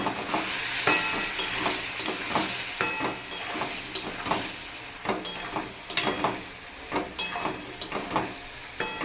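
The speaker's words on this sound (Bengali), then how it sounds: "এবার এটাকে ভালো করে কষিয়ে নেব।" Spices with turmeric powder being sautéed and stirred in a pan for a Bengali fish curry, a steady close sizzle broken by repeated scraping strokes of a spatula, with no talking.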